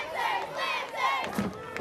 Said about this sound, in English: In this second half, the crowd has come alive.